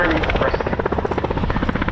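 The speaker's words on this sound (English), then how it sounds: "So we got the Wessex now doing a display of the Royal Navy." A Royal Navy Westland Wessex helicopter flies a display at an air show, its rotor blades beating in a loud, rapid, steady chop that fills the scene, with people talking over it.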